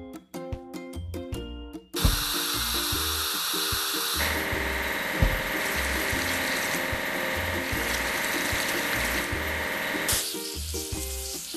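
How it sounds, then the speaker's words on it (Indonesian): A drop-side truck gets washed with a water spray in a mobile video game, where a brief plinking musical jingle gives way to a loud, steady hissing spray that runs on and changes tone partway through, with no talking. "Ayo cuci truk drop side."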